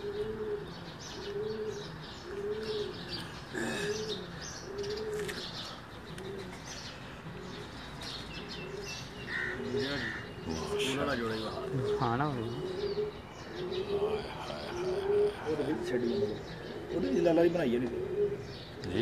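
Pigeons on a rooftop loft cooing in repeated soft rolling calls, with occasional chirps and faint wing flutters nearby and a voice talking over them.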